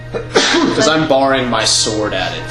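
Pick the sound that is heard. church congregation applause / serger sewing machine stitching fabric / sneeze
sneeze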